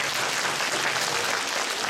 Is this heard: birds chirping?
no